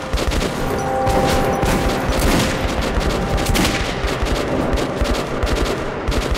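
Rapid gunfire fills a firefight in the shooter Metro 2033 Redux, where a sniper revolver is in use, with dense overlapping shots and bursts crackling loudly and continuously with no voices.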